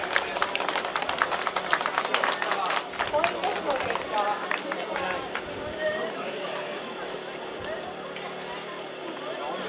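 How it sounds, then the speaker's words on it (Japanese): Applause and cheering from the stand at a Japan–Korea friendly American football game after the coin toss, with clapping that is strongest at first and then fades into mixed crowd noise and voices. "ぜひ皆様盛大な拍手をお願い申し上げます。"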